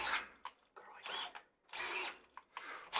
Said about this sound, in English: I reckon I'm drilling through the side of the bloody steel.